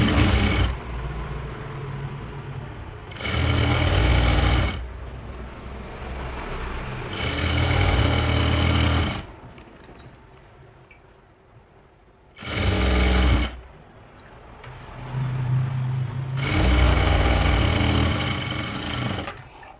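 An electric sewing machine stitches salwar leg panels together in several separate whirring runs, each a few seconds long, with quiet pauses between them, close and clear.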